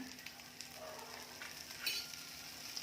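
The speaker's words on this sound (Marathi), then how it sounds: "एका बाजूने तरी प्रॉन्स छान फ्राय झालेले आहेत आता फक्त अर्धा चमचा तेल घालायचं पुन्हा" Prawns fry in a little oil in a pan over medium heat, giving a soft, steady sizzle with faint crackles and pops and no talk.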